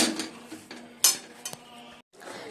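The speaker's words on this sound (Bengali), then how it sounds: "ভালো করে এবার মিশিয়ে নিচ্ছি" Semolina, flour, jaggery and milk are mixed in a bowl, giving close clinks and scrapes of a spoon against the bowl in irregular strokes, followed by a brief pause.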